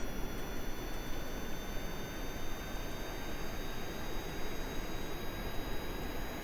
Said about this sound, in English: Alright, spool up those jet engines, Jeb.